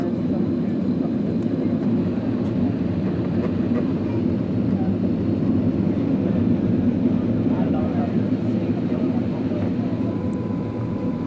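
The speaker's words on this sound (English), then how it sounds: "flaps are going down for landing. Landing gear is down also." Steady low roar of cabin noise aboard a Finnair Airbus A330 on approach with flaps and landing gear extended, a constant broadband rumble filling the cabin, with a voice talking over it.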